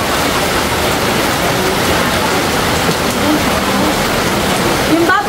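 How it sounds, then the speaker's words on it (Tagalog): Heavy rain pours in Tingloy, a steady dense roar of water falling and splashing that fills the whole stretch at constant loudness, with brief faint voices near the end. "umuulan dito sa Tingloy. Super lakas ng ulan."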